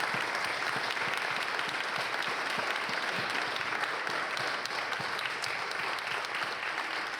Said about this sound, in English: please join me in applauding these incredible scientists.